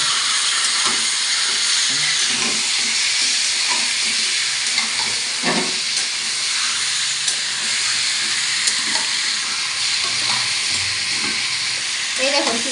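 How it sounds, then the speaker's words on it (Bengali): Chicken pieces fry hard in hot oil over a high gas flame, giving a loud, continuous sizzle and hiss with occasional scraping stirs and pops throughout. "চিকেনটা ভাজা হচ্ছে গ্যাসের ফ্লেম কিন্তু হাই করে রাখবেন যাতে চিকেনটা খুব তাড়াতাড়ি ভাজা হয়ে যায়"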